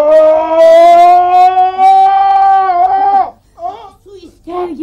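A man imitates a jackal howl with one long, rising, wavering vocal cry that breaks off, followed by a few shorter yelping whines.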